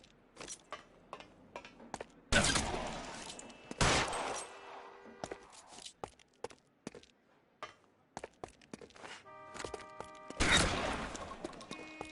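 Gunfire in the video game L.A. Noire during a rooftop and fire-escape chase: several loud, sharp shots, with two big blasts early and another later, among scattered smaller cracks and ticks.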